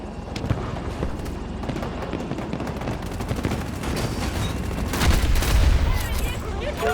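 Rapid bursts of helicopter cannon gunfire in the Battlefield 2042 video game, dense and continuous with a heavier rumbling burst near the end, mixed with engine and battle noise.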